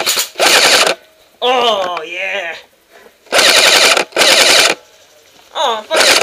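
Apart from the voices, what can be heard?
paintball gun shots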